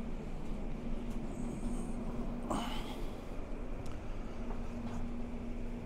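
An Elizabeth line (Crossrail) passenger train running steadily, a continuous low rumble and hum with a faint tonal whine and a brief brighter rattle midway, heard from on board.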